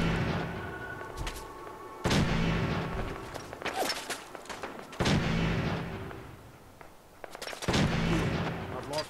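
Gunshots ring out in the video game Fallout 4, four sharp, loud reports spaced about two seconds apart, each trailing off into a fading echo over a quiet background.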